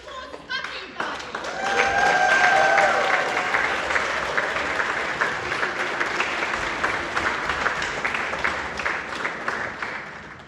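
Concert audience applauds a choir at its 55th anniversary concert in Vaidava, a dense, sustained wash of clapping from many hands that swells after the first second and holds steady, with a few voices briefly heard over it.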